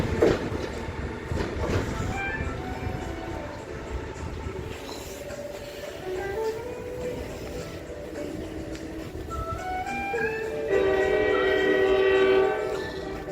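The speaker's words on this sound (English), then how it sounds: "New Jersey Transit train." A New Jersey Transit train rolls past Trenton Transit Center with steady rail rumble and clatter, then sounds a loud sustained horn blast near the end.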